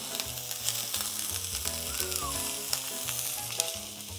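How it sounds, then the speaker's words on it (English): Shallots sizzle and fry steadily in a hot pan, a loud continuous crackle that holds throughout, with faint background tones from elsewhere in a kitchen. "we're just going to sweat off our shallots. Nice hot pan."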